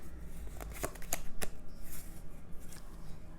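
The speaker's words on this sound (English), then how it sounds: "I'm going to get a card in the middle." Tarot cards are shuffled and riffled by hand at close range, a few quick papery flicks and slaps in an irregular rhythm, no talking.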